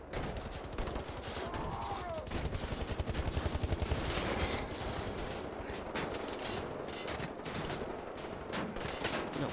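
Rapid shotgun fire in Wolfenstein: The New Order, loud blasts coming in a dense burst with a rattling rhythm, mostly alone with little talk.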